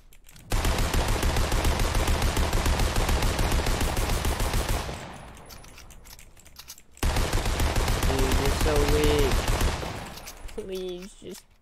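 Sustained automatic gunfire from a video game blasts loud and continuous for several seconds, pauses briefly, then erupts again in a long dense burst. A voice shouts over the second burst near its end.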